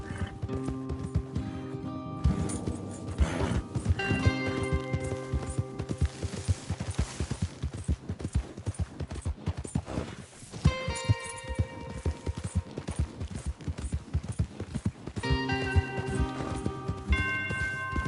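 Rapid hoofbeats of several horses galloping in Red Dead Redemption 2, a dense drumming rhythm with music-like tones layered over it, steady and loud throughout.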